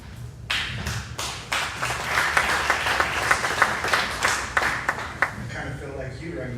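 An audience claps at a school district bond meeting, with distinct individual claps and hand slaps scattered through a steady round of applause that lasts the whole stretch. Faint voices sit underneath.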